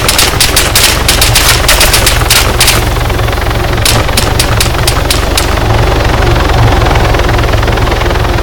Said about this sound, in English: We have helicopters incoming